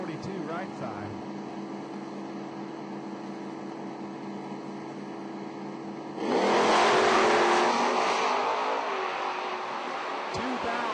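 Ford Mustang drag racing cars, including a 1993 Mustang, at a footbrake drag strip event: a steady low idle and hum, then a loud, sudden broadband engine roar at launch that stays strong and sustained.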